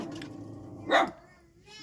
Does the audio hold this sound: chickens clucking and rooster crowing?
no